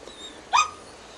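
A single sharp dog bark or yelp rings out near the middle of an outdoor dog training session, fairly close and clear against a quiet background, with no talking.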